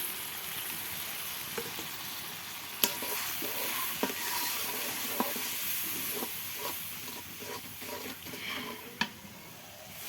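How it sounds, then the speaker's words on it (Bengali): Ground spices with salt, turmeric and chili powder sauté in a pan for a pumpkin leaf dish, giving a continuous sizzling fry with repeated spatula scrapes and taps at a steady pace, no talking. "মশলা কষানো হয়ে গেছে"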